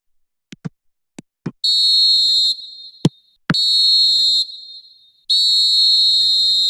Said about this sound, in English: Referee looks at his watch and blows his whistle